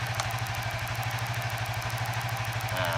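Suzuki FU 150 FI motorcycle engine running steadily with a fast, even pulsing throb and mechanical clatter, close and loud throughout.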